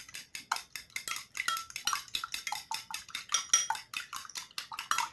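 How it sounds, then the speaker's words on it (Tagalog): Eggs are beaten in a bowl for pancakes, giving a fast, steady series of bright clinking taps as a utensil strikes the bowl repeatedly. The strokes are rhythmic and close-up, with no talking. "batihin po muna natin ang itlog bago ilagay"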